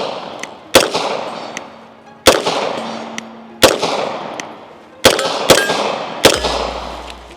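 A Flux Raider pistol firing about seven sharp, loud shots at an uneven pace, each crack followed by a ringing echo tail, close up and with no talking.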